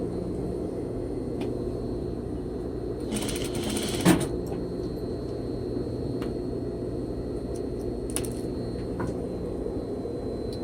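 A sewing machine runs steadily for a small tack stitching suit sleeve seam allowances together, a continuous close mechanical hum with a couple of brief rustles and a small knock.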